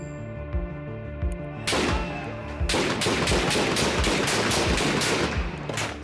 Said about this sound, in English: Same shots.